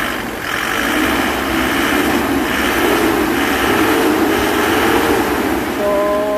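A Hyundai Bongo 3 engine with a throttle delay runs loud and close, a steady throbbing idle with slight pulsing unevenness and a low rumbling drone throughout.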